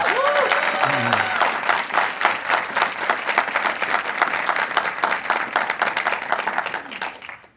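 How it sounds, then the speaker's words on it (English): Sustained audience applause in a county council meeting chamber, dense even clapping lasting about seven seconds at steady volume before fading out, with a brief voice at the start. "Let's give them another round of applause."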